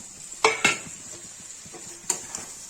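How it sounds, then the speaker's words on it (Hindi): Eggplant and potato pieces tipped into a pan of cooked tomatoes for a Kashmiri-style sabzi, two sharp clanks of a utensil against the pan followed by light stirring scrapes and a faint sizzle. "टमाटर भून गया है, और इसमें डाल देंगे बैगन और आलू"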